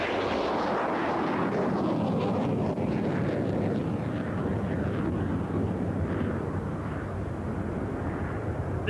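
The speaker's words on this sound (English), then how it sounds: "Now here's someone who obviously means business, the Vought F8 Crusader." A Vought F8 Crusader carrier-borne jet fighter with a variable incidence wing flies past at an RAF Mildenhall airshow, a loud continuous roaring rumble that swells and holds steady throughout with no voices.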